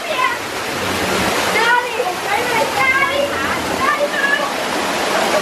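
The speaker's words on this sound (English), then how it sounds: "We got all the waterfalls down here as well." Waterfalls at the Universal Orlando theme park, a loud constant rushing cascade close by, with a voice and other people talking over the steady roar.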